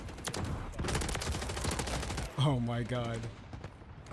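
Sentry gun in Modern Warfare 3 firing rapid automatic bursts, a dense stream of sharp close shots, then a voice briefly exclaims over the gunfire before the firing continues.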